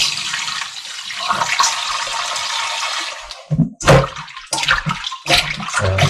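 Tap water runs loud and steady while raw chicken is washed with vinegar in a kitchen, then breaks into short, splashing bursts as the flow stops and starts.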